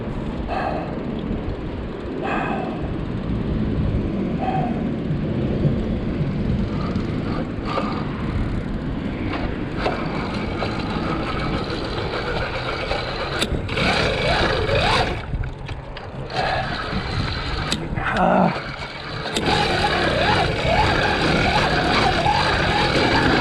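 The small engine of a motorized bicycle fitted with new carburetor jets runs with the choke closed, a rough, steady drone with uneven sputters and microphone wind noise, continuous and close.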